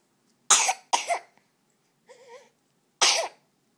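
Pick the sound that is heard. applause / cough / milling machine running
cough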